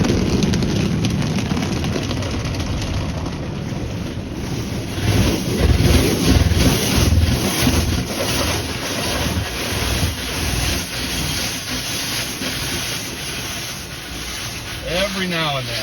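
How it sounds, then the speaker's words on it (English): Inside a Tesla passing through an automatic car wash, a loud, steady rush of spraying water and blowing air roars against the car, with heavier surges and a low rumble throughout. "every now and then I'll go through a wash"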